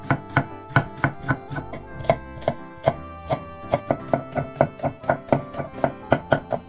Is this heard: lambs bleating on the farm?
no